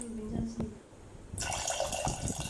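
Water pours steadily into a pressure cooker of chicken biryani, two glasses' worth, a bright, rushing splash that starts partway through and continues to the end, with faint clinks before it.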